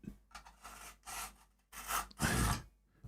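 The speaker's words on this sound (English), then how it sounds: "fine sharpening at the end." Knife drawn through a knife sharpener's fine stage, giving short rasping strokes in a few separate bursts with brief pauses between them, close up and moderately loud.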